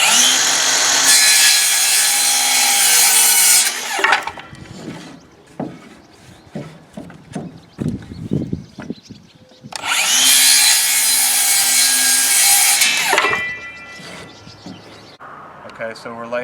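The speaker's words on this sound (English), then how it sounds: "So I'm going to saw some more of this up" Wooden boards are hand-sawn for a chicken tractor frame in two long, loud bursts of rapid rasping strokes, separated by a stretch of knocking and handling noises, all close by.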